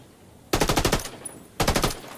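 Two sharp bursts of rapid automatic gunfire from Tom Clancy's Ghost Recon Wildlands Ghost War, loud and close, separated by a short lull, with no voices over them.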